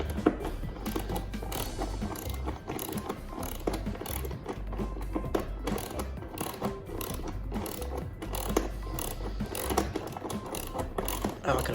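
A wrench works loose the bolts on the top cover of a push mower engine, making a rapid run of close ratcheting clicks that repeats throughout.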